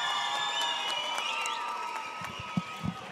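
Crowd at an MMA fight night cheering and shouting in support of a fighter, a steady wash of voices with whistles and a few sharper shouts near the end.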